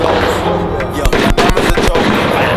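Gunshots at a shooting range ring out as a few sharp, close reports over a loud, dense background, with people talking nearby.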